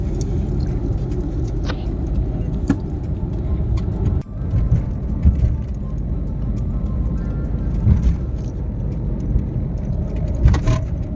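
A small car driving along, its steady low engine and road rumble continuous and close throughout, with faint rattles and a brief thump partway through.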